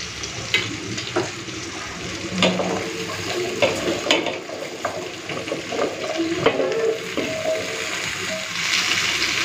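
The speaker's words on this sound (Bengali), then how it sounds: "এরপরে দিয়ে দেবো কেটে ধুয়ে রাখা সবজিগুলো।" Washed, cut vegetables hit onions browned in oil and are stirred, a loud steady sizzle with scraping, clattering spoon strokes and a few knocks against the pan, up close.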